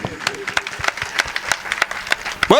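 Scattered handclaps ring out from an audience at a Hindu devotional jagran program honoring Khatu Shyam, crisp separate claps spread across the moment under singing or speaking voices.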